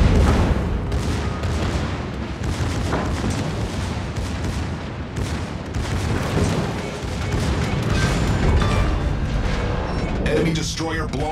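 Loud, continuous naval battle noise from the World of Warships game, with booming explosions and gunfire as a destroyer is blown up and sinks. A dense rumbling roar runs throughout, with heavier blasts near the end.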